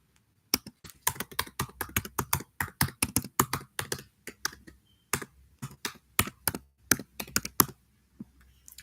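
Brisk typing on a computer keyboard, dense runs of sharp key clicks with short pauses between bursts, close and clear with no talking.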